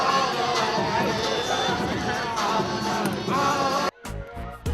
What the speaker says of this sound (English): The crowd of Gary Comer College Prep were hyped up and ready to support their team